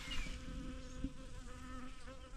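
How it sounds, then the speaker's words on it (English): A bee hums and buzzes in a garden, a close, wavering drone that rises and falls as it moves around, faint beneath a soft outdoor background. "Oh, there's a bee!"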